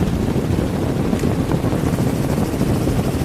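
A helicopter in flight gives off a loud, steady rotor and engine rumble, with wind buffeting the microphone throughout.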